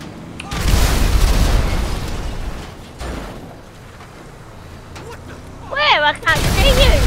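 Heavy rumbling booms fill most of the clip, like explosions in GTA Online, with excited voices breaking in near the end.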